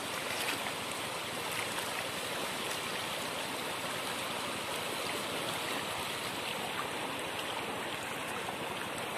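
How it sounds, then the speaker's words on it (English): River water flows steadily while people cross a river on the way home, a dense, constant rushing wash with no pauses, close and fairly loud throughout. "As you can see, we are crossing the river."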